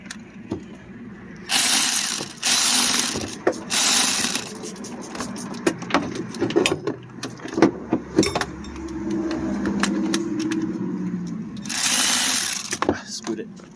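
Power ratchet or driver loosening the starter's 10mm bolts on a 2002–2007 Honda Aquatrax F12X watercraft engine during removal: several loud whirring bursts near the start and one near the end, with metallic clanks and handling noise between.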